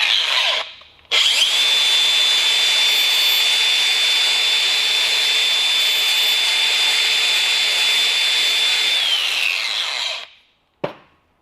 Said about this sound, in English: So I'm about to finish drilling it and take it in there and get ready to weld it up.